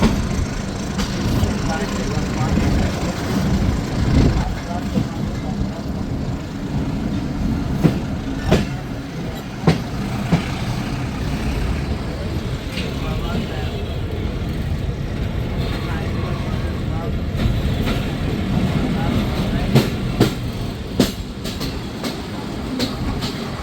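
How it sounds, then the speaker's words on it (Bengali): A local mail train pulls out of Rajshahi Court station on a winter morning, its carriages rumbling continuously with clattering wheel clicks and sharp knocks over rail joints, loud and close from on board. "খুব অল্প সময় যাত্রাবিরতি দিয়ে ট্রেনটি ছেড়ে দিল রাজশাহী কোর্ট স্টেশন"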